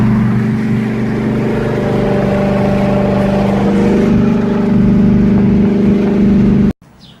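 A Hellion turbo car with a Coyote engine and turbo 400 transmission cruises at about 80 mph near 3,000 RPM, making a loud, steady engine drone with a deep hum throughout before it cuts off abruptly near the end.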